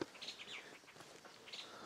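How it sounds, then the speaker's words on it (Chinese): Several birds chirp and tweet faintly in short, scattered calls from a distance on a quiet mountainside along an old post road in the deep hills of western Hunan. "还能够听到很多鸟叫声"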